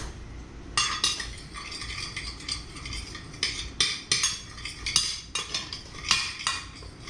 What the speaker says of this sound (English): Oh, I got to stir it up first because you want it to get all the way through there.